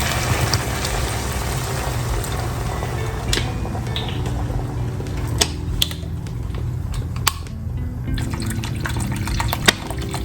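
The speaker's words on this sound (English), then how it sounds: "Then we're going to add water." Water pours steadily into a soup pot close by, a continuous splashing fill with occasional clinks and drips.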